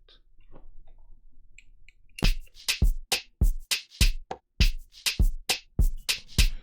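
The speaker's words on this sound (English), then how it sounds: "with my drums, I just have a very simple drum pattern" A simple Afrobeats drum pattern programmed in FL Studio at 101 BPM, with kicks, bongo and rim shot in a crisp, evenly spaced percussive loop; soft rustling first, then clear repeating hits for several bars.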